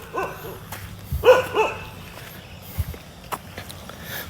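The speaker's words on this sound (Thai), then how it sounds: "เฮ้ยเห่าทำไมล่ะ มึงยังไม่คุ้นอีกเหรอกูอยู่นี่ทุกวัน" A dog on a rain-washed road barks a few short, close barks in a quick burst, followed by scattered footsteps and light knocks in a quiet outdoor setting.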